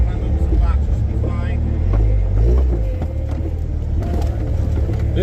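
A 1997 Jeep Wrangler TJ climbing over rocks, its engine a loud, low rumble that swells as it crawls up, with people talking nearby throughout.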